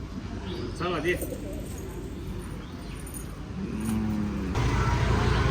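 A pigeon gives a soft, rolling coo over a steady hum of road traffic, with indistinct voices in the background.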